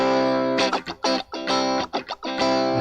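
A modded Squier electric guitar with all three pickups wired in parallel plays bright, distorted chord stabs alone, in a choppy rhythm with short gaps between the strums.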